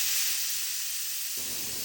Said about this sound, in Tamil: குக்கரில் வந்து நான் இதை வேக வச்சுக்கிறேன்